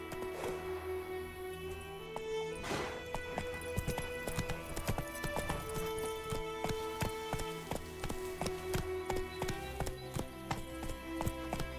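Roach, a horse in The Witcher 3, gallops with a steady rhythmic clip-clop of hooves over a constant bed of game music and ambience.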